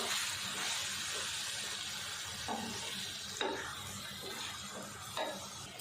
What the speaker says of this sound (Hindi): चलिए जी, अब अच्छे से इनको एक दफ़ा मिक्स कर लेते हैं।